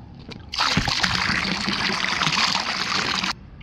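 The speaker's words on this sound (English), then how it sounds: "Now I'm going to add 8 gallons of liquid chlorine here." Eight gallons of liquid chlorine poured into a green swimming pool during cleanup, a steady, close splashing gush that starts abruptly, runs for about three seconds and stops cleanly.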